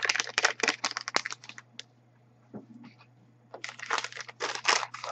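Basma powder tipped from a paper packet into a plastic bowl: dense, crackly rustling bursts, a short near-silent pause in the middle, then more vigorous crinkling shakes. No one speaks.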